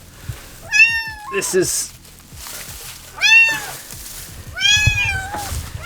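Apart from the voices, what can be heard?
cats meowing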